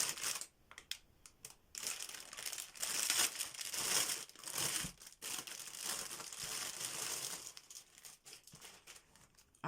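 A plastic-wrapped bead embroidery kit package is torn open and handled, giving loud, continuous close crinkling and crumpling of plastic film with brief pauses, and no talking.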